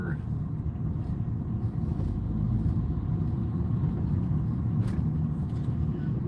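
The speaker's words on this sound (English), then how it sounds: "Traffic back up here." Backed-up rush-hour traffic on a road in North Santa Rosa rumbles steadily, a continuous low mix of idling and slowly moving cars nearby, with a brief brighter hiss partway through.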